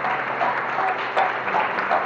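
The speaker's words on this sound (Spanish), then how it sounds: "denle un aplauso al Señor" A church congregation applauds in praise during a worship service, a steady, dense wash of clapping that holds at an even level throughout, with faint voices mixed in.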